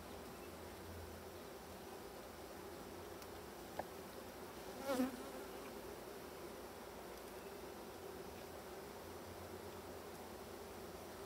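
Honey bees hum steadily around an open, populous hive, a dense continuous drone close to the microphone, with one louder bee buzzing past mid-clip.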